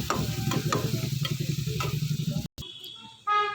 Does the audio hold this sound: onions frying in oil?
yes